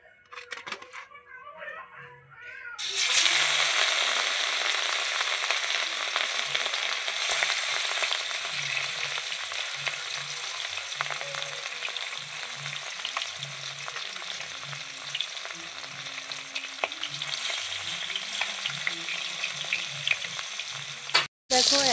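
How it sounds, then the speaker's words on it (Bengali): Rohu fish pieces hit hot oil in a wok, a quiet moment giving way to a sudden loud burst of close sizzling that crackles steadily on for nearly twenty seconds, ending with a sharp click. "আমি তেলগুলো দিয়ে দিয়েছি কড়াতে। আমি তেল দিয়ে দিয়েছি, আগে থেকে গরম হয়ে গেছে। এখন আমি মাছগুলো দিয়ে দেব।"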